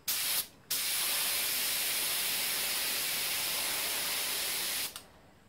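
A spray gun driven by a compressor lays clear coat onto a steering wheel: a short hissing burst, a brief pause, then one long, steady, close spray that cuts off abruptly.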